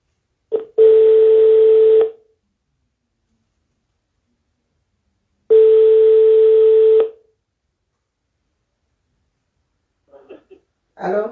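A telephone call-back plays two long, loud steady tones separated by silence, followed by brief faint voices at the very end.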